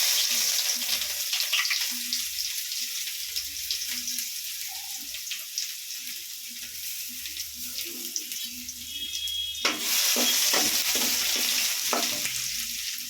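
Mustard seeds, dal and crushed garlic frying in oil for pakoda kuzhambu, giving a steady close sizzle with scattered pops and stirring clatter that brightens sharply near the end as more goes into the pan.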